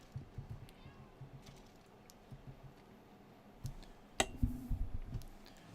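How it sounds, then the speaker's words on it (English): A cat meows within Red Dead Redemption 2, one short cry cutting through near the end over a low game ambience of soft clicks and rustles, with a voice talking faintly. "Oh, got a cat meowing at me."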